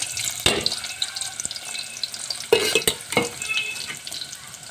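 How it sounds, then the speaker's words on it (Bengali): Chopped onions hit hot oil in a pan with a burst of sizzling and frying. Scraping stir clatters and splashy kitchen noises mix in close by over a few seconds, with no speech. "এখন তেল গরম হয়ে গেছে আমি পেঁয়াজ কুচিগুলো দিয়ে দিচ্ছি"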